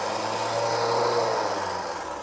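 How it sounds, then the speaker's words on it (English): An electric winch on a car runs with the engine switched off and the transmission in neutral, giving a steady, continuous motor whine and hum at close range, without pause for the whole stretch and with no talking. "The winch works."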